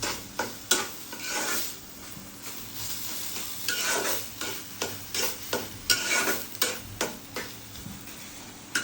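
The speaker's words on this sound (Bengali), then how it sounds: "এখন একটু শেষের দিকে লবণ দিয়ে ভালো করে নাড়াচাড়া করে" Chicken meat fries in a pan with salt added near the end, a spoon or spatula stirring and scraping in uneven clicks over a steady sizzle, close and alone.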